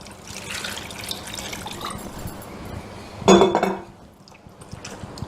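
Bitter gourd is rinsed in water in a kitchen, with a steady wet swishing and splashing that swells into a louder slosh and a light clink of a vessel before quieting.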